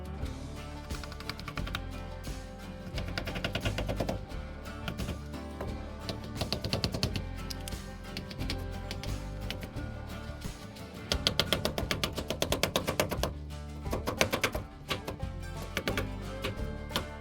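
Pinion seal, coated with RTV, tapped into the 9-inch rear end of a 1979 Ford F100: a long run of sharp, fairly loud metallic taps in uneven bursts over a steady background hum.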